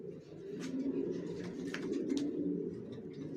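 Racing pigeons in a loft coo continuously, with overlapping low, throaty calls close by and occasional faint chirps above them.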